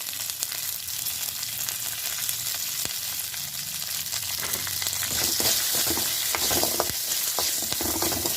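Shallots, garlic cloves, tamarind and curry leaves roast lightly in a pan for a Tamil pirandai thuvaiyal. A steady close sizzle runs throughout with scraping stirs, and it grows busier and crackly toward the end. No one speaks.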